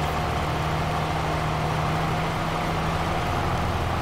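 A tractor engine in Farming Simulator 22 drones at a steady idle-like hum while power harrowing a field, constant and close with a low tonal whine throughout and no talk.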